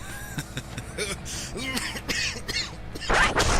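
In a video game, a character gives several short, rough coughs and throat-clearing sounds in quick bursts, followed by a louder noisy blast at the end.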